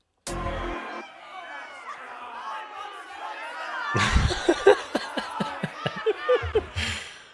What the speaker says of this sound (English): when we turn it up, it's like a, crowd heckling